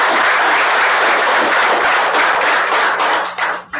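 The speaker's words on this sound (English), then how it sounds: "So if we would give them a round of applause." Audience at a school board of education meeting applauds students, a dense, steady burst of clapping throughout, fading slightly at the end.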